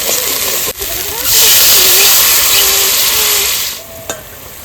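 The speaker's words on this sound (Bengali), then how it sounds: "জলটা দিয়ে দেবো এবার মাছের ঝোলে।" Water poured into a hot pan of fish curry bursts into a loud, steady hiss and sizzle that holds for a few seconds and then dies back, with a voice speaking around it.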